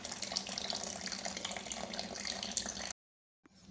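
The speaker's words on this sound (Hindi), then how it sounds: "वाटर ड्रेन कर दिया है ऑलमोस्ट हाफ से ज़्यादा पानी मैंने बकेट में डाल दिया" Water drains from a planted aquarium tank into a bucket, a steady, close rushing and splashing pour that stops abruptly near the end and then returns faintly.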